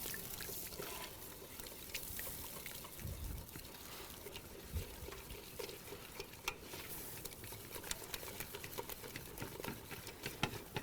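Milk is poured into a pan and stirred, producing a faint, continuous scraping and soft liquid churning with small clicks and knocks of the utensil, close and quiet throughout.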